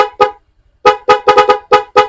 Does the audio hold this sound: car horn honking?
yes